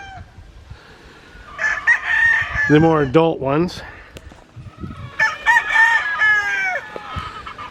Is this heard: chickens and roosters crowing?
yes